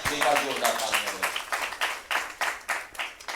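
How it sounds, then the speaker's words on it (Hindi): Audience at a Hindi poetry gathering marking an anniversary at the Delhi Assembly breaks into applause, a dense patter of claps that thins into separate hand-claps toward the end, with a voice speaking briefly at the start. "एक बार जोरदार तालियां"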